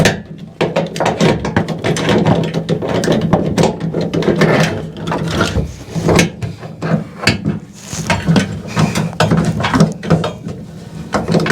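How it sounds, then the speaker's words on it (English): A basin wrench tightens a bath shower mixer tap, producing loud, close, rapid ratcheting clicks and metallic scraping in continuous bursts with brief pauses. "Tighten it up with a basin wrench."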